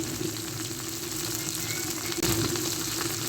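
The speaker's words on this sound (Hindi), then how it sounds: "घी गर्म हो गया तो सबसे पहले हम भिंडियाँ फ्राई करेंगे।" Okra fries in hot ghee in a pan, a steady, close, dense sizzle and crackle that lasts throughout, with a brief dip and a louder burst of spitting partway through.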